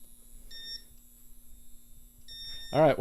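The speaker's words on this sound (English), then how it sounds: "I guess that just beeps now and I can't get it to stop" A fire alarm panel device gives two short high electronic beeps at a steady interval over a low hum, before a voice starts speaking close by.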